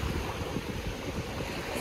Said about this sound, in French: C'est plus comme la mer, c'est plus la grande mer.